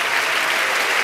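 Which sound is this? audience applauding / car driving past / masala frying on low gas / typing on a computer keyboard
audience applauding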